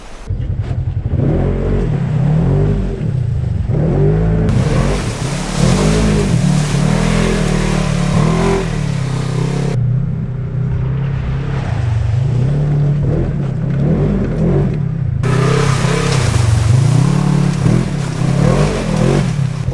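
An off-road car climbs rough hills in a beachside jungle in Mexico, its engine revving and straining loudly and steadily close by, with surges of acceleration and rumbling.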